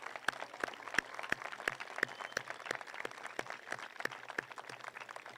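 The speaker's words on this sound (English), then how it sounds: "Please join me in applauding these graduates." Sparse, scattered clapping from an audience honoring graduates at a high school graduation ceremony, individual claps standing out in an irregular rhythm against a soft, roomy background.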